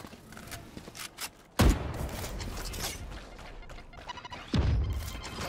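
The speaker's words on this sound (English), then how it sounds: "Swarm grenade out." Swarm grenades from the video game Valorant go off in two heavy, booming blasts a few seconds apart, each with a sharp thud and a rumbling tail, among lighter clicks and knocks of gameplay.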